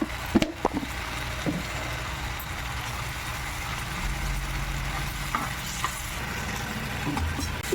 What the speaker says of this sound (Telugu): ఇవన్నీ వేసి బాగా కలుపుకోవాలి